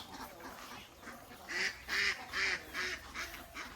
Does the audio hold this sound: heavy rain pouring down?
no